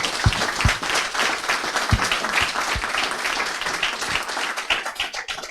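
An audience at a book presentation applauds together in a dense, sustained clapping burst with a few sharper individual claps standing out, holding steady for several seconds.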